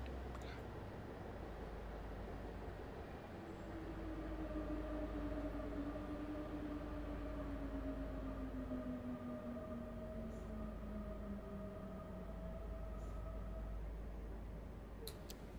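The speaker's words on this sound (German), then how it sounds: "Oder links gerade eine S-Bahn" An S-Bahn electric commuter train passes in Train Simulator 2017 on a dim Köln route, its motor whine sliding smoothly in pitch over a steady, close rolling rumble that lasts throughout.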